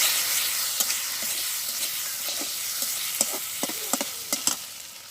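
Spices with salt and turmeric fry in a pan in a village kitchen, a steady hiss of sizzling oil broken by light scrapes and clinks of stirring.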